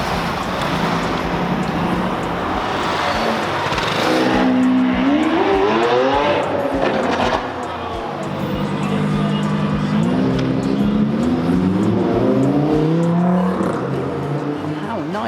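A Ferrari 488 Spider drives past at the start of the Gumball 3000 rally in London, its loud engine revving up through rising gear pulls amid crowd and street noise, with voices in the background.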